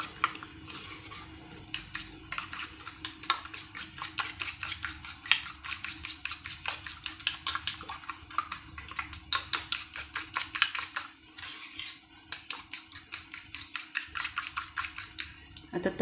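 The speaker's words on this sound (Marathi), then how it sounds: "आता हे छान फेटून घ्यायचं." A whisk or spoon beats dosa batter mixed with salt in a bowl, making quick, rapid, sharp clicking taps in a steady rhythm that pause briefly now and then.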